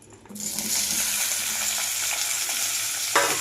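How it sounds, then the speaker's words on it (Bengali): Chopped capsicum, onion and green chillies hit hot oil in a wok and burst into a loud, steady sizzle, with a brief clink or stir near the end. "এখন আমি কেটে রাখা ক্যাপসিকাম, পেঁয়াজ, লঙ্কাগুলো একে একে কড়াইয়ে দিয়ে দেব, দিয়ে ভালোভাবে ভেজে নেব।"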